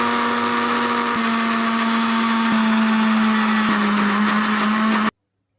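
A kitchen blender whirs steadily at high speed while homemade egg mayonnaise is mixed, a loud constant motor hum with slight pitch shifts as ingredients are added, cutting off abruptly at the end.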